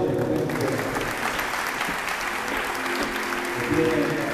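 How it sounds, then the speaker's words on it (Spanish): An audience claps at a municipal award ceremony in Goya, steady, moderately loud applause with a low murmur of voices underneath and a brief swell toward the end. "Acompañamos el aplauso de este momento"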